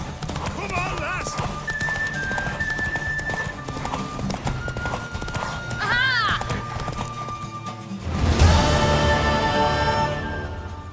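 Galloping horse in The Witcher 3, rapid rhythmic hoofbeats with a whinny, close and loud, under a speaking voice and game music, with a louder burst near the end.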